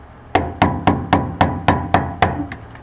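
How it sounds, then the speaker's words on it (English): Nine evenly spaced, sharp hammer taps on a metal ring while replacing a Mustang's fuel pump, each a bright ringing strike, close and loud with a steady rhythm. "hit it with a hammer and go"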